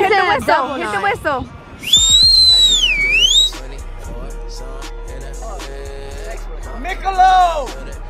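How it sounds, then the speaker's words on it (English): A whistle blown on a boat during a lake day party gives a loud, warbling blast lasting about a second and a half, surrounded by shouting voices and lively crowd chatter. "Okay, Tanner, hit the whistle."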